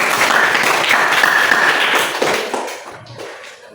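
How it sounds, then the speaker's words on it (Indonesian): Classroom audience of students applauding a group presentation, a loud, dense burst of clapping that holds steady and then fades out toward the end. "Tepuk tangan."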